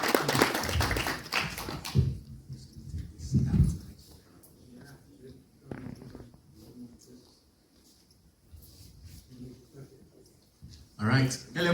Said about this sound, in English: please give him a nice big round of applause for coming back to campus and sharing his story